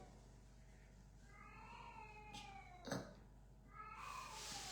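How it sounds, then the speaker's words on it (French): An old female cat meows loudly several times, with rising and falling drawn-out cries and a sharper, louder call near the middle, set against a low steady background hum. "La chatte là, elle miaule vraiment très fort."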